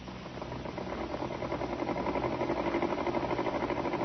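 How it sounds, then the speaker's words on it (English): A sewing machine's steady mechanical whirring and rattling hums continuously at moderate level, like a motor running without pause, muffled and somewhat distant. "Miss Winthrop, you heard the sewing machine just now"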